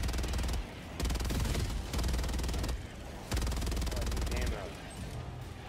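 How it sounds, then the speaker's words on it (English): Rapid automatic gunfire from a machine gun in the video game Helldivers 2, loud sustained bursts broken by short pauses, with game noise and talk underneath. "Oh, nice machine gun."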